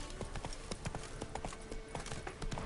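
Roach, Geralt's horse in The Witcher 3: Wild Hunt, gallops with a rapid, even clip-clop of hooves, steady and fairly loud over a dense game soundscape.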